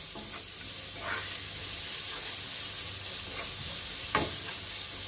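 Onions sautéing in a pan for bread masala, giving a steady, soft sizzle with a few brief stirring scrapes, close and alone without talk.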